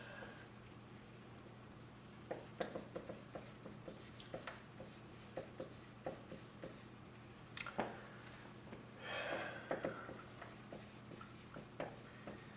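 Chalk or marker writing lecture notes on a board during a human anatomy class on joints, heard as a series of quiet scratchy strokes and taps over a steady low room hum, fairly close and without speech.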